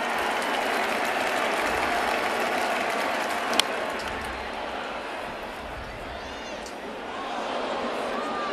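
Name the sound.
big stadium crowd applauding, Yankees opening day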